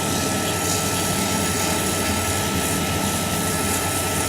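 A woodturning lathe spins a wooden piece while sandpaper is held against the top, producing a steady, loud, broadband whirring rush with a constant motor hum and no pauses.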